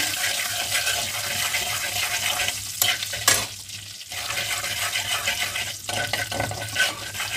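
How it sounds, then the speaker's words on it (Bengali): Black mustard seeds and whole cumin are stirred into hot mustard oil in a kadai, giving a continuous loud sizzle with scraping stirs and a few brief dips, close up. "প্রথমে এই তেলের মধ্যে প্রথমে দিয়ে দেবো কালো সরষে, গোটা জিরে, একটু নাড়িয়ে নেব"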